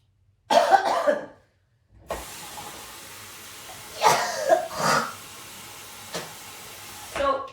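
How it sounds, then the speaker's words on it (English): Coughing during sutra neti, with a cord drawn through the nose and down the throat: a harsh cough burst, a pause, then a hissy breathy stretch with several more coughs and throat-clearing sounds, close and loud. "When it comes down your throat, you'll start to cough."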